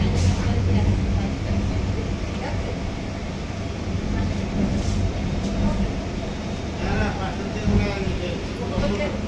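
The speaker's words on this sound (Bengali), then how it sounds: "ট্রেন ঢুকলো বর্ধমান জাংশন" A passenger train pulls into Bardhaman Junction, a steady loud rumble of wheels and carriage noise running throughout, with people talking over it.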